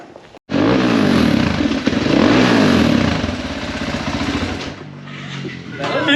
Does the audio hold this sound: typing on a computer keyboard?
no